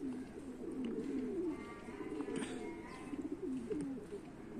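Pigeons coo in soft, repeated low rolling calls, fairly close and quiet, with a few light chirps above and faint background noise.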